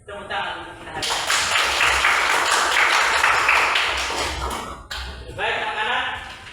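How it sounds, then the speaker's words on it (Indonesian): Applause from a class of schoolchildren at the end of a breathing exercise, a dense, steady patter of many small hands lasting several seconds, briefly dropping out and then resuming, with voices mixed in. "Tepuk tangan untuk kita hari ini."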